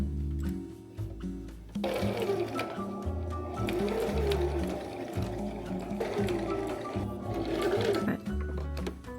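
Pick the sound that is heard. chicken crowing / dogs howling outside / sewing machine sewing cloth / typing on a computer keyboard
sewing machine sewing cloth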